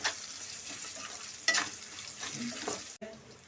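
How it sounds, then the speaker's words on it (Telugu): Cashews frying in a pan for Telugu coconut rice, a steady soft sizzle with a sharp stir or clatter near the middle, alone without talk, ending in a brief cut. "ఇప్పుడు జీడిపప్పు వేసుకుందాం బాగా ఆగాలి"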